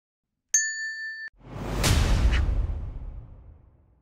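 A bright electronic notification-bell ding rings once and holds, then stops abruptly and gives way to a rising whoosh that swells and slowly fades away.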